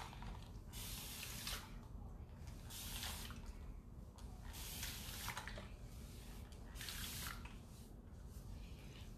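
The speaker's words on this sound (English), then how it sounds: "Sorry, spraying water everywhere." Water from a small spritz bottle is sprayed onto braids in repeated short, soft hissing bursts, roughly a second apart, over a faint background hum.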